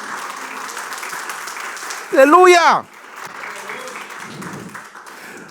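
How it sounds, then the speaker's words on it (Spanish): Church congregation applauding during a Spanish-language sermon, a steady wash of clapping under a loud sung or shouted voice that briefly rises above it midway. "denle un aplauso a Dios, por favor"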